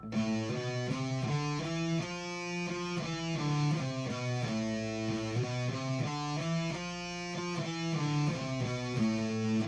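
A distorted electric guitar plays repeating arpeggio patterns in the A natural minor scale, the notes picked one after another in a steady rhythm at an even volume.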